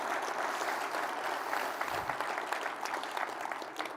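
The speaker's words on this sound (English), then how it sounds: "let's give the Secretary one more big applause." An audience gives a sustained round of applause after a morning keynote by a government secretary, steady dense clapping filling the hall without speech.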